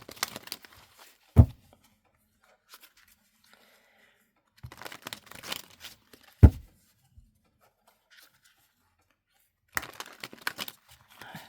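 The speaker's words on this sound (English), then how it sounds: "I am now going to pull you 6 tarot cards" Tarot cards being handled in three separate bursts of papery riffling and sliding, each with a sharp tap as the deck or a card comes down, with quiet pauses between.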